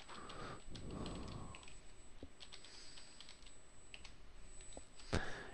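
Someone types a password on a computer keyboard, a quiet run of close key taps in short bursts with pauses, ending with a sharper keystroke.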